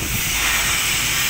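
Boiling water poured into a large wok gives a steady, loud broadband hiss of steam, close up and continuous, with no voices over it.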